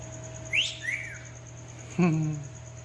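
Two short bird chirps or whistles in a small animal petting area, one near the half-second mark and a louder, lower call near two seconds, over a steady background hum.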